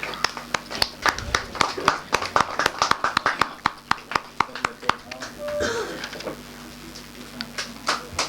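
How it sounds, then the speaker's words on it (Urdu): Applause at a ceremony in a Mumbai gymkhana hall honouring a guest, rendered as a dense run of sharp, fairly close hand claps of uneven rhythm, thinning out toward the end as a voice speaks over it. "زوردار تالیاں"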